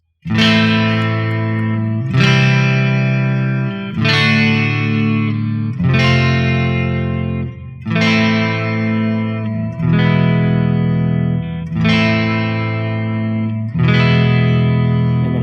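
A distorted electric guitar strums the intro chord progression of a song, sustained chords each ringing about two seconds before the next, in a steady repeating progression.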